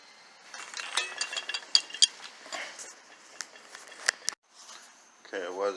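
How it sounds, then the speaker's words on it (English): Metal clicks and ratcheting from a 13 millimeter wrench working bolts loose on a 1995 Mazda Miata, irregular close taps and turns with short pauses, with a voice briefly at the end. "I need a 13 millimeter to get those off"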